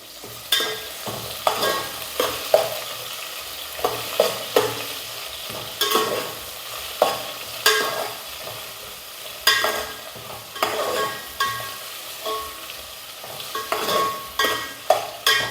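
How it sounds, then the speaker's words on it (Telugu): Spices and onions for egg biryani being stirred in a frying pan: repeated scraping strokes of a spoon, roughly one per second, over a steady sizzle of frying, close and loud, with no talking. "బిర్యానీ దినుసులు, ఒకసారి కలుపుకుందాం"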